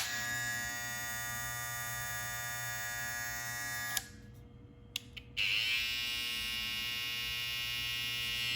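A rose gold BaBylissPRO Skeleton FX hair trimmer runs close up with a steady high-pitched electric whine, which drops out briefly partway through before resuming steadily.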